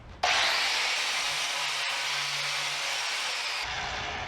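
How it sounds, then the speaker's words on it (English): A power wire brush scours a mower blade in one loud, steady, hissing burst of about three and a half seconds that starts abruptly and then cuts off. "I used a power wire brush."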